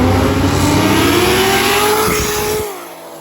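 A loud truck engine roars and revs as it accelerates hard down a drag strip, pitch climbing steadily before the sound drops off abruptly near the end.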